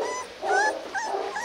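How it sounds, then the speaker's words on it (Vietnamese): Rottweiler puppy vocalizing in a short burst of whiny, yipping growls, close and fairly soft, with no talking over it. "Con này nó gầm gừ,"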